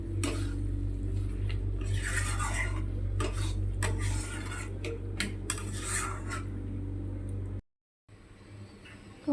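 Mutton browning in a pan for a special home meal, stirred with a metal spoon in repeated close scraping clinks over a low sizzle, followed by a brief gap of silence near the end.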